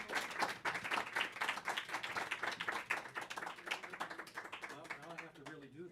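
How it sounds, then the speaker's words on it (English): An audience at a Friday night concert applauds to welcome a performer, with steady, dense clapping that goes on for several seconds and thins slightly toward the end. "let's give Jim a big round of applause"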